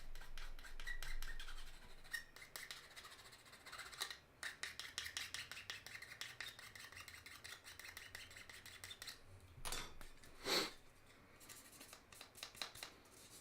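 Nub marks being cleaned off gray plastic model kit parts, heard as faint, rapid scraping and filing strokes in uneven bursts with a few sharper clicks.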